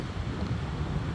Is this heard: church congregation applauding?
no